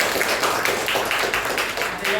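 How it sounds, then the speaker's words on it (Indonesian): Classroom audience clapping for a student presenter, a dense run of roughly rhythmic hand claps at a steady pace, fairly close and filling the room. "Tepuk tangan untuk Kak Owi, Pak."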